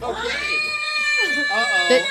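A cat gives several drawn-out, wavering meows, loud and close, with a short pause between calls and a rising yowl near the end.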